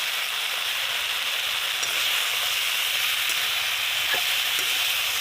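Tomatoes, ginger and garlic fry in a pan on a gas stove, giving a steady, even sizzle that stays at one level throughout with no one speaking.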